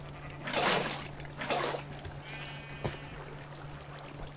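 Sheep in the Minecraft video game bleat twice in quick succession, fairly soft, alongside faint trickling water and light game ambience.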